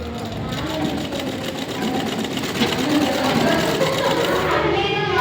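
A sewing machine runs steadily while stitching a blouse, a continuous mechanical whir with a fast rhythmic needle chatter that holds close and fairly loud throughout.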